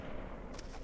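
Gunfire from a DayZ Epoch match: a short, broad crack about midway through a brief stretch of steady low rumbling game ambience, with no talking.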